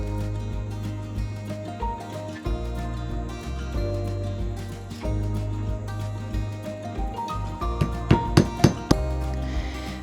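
Black walnuts being cracked with a hammer: a low steady hum throughout, then a quick run of four or five sharp knocks near the end.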